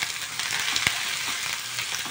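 Tomatoes sizzle and fry in a hot pan for chana masala while being stirred, a bright steady hiss with a soft spatula knock or two, no talking.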